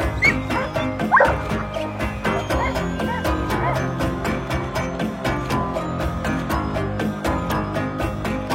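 Avalanche rescue dogs bark and yip in rapid, continuous excitement during a training session at a ski resort, loud and close over a busy outdoor background.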